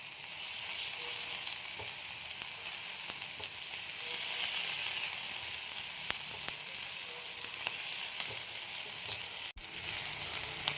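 Grated ginger sizzles in hot oil with onion and garlic for a Bengali matar paneer, a steady loud frying hiss running throughout with a few faint stirring clicks and one sharp knock near the end.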